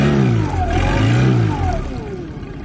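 A 2010 Yamaha 25hp four-stroke carbureted outboard motor with automatic choke runs close by, its engine note rising and falling as it revs and shifts.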